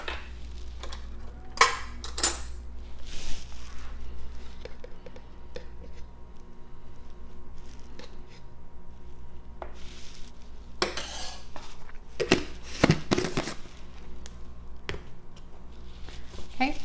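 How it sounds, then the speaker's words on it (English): A metal spoon adds lecithin powder to a protein shake, making a few sharp clinks and taps against a container over a quiet background. "So I'm going to add 1 tablespoon of the lecithin powder."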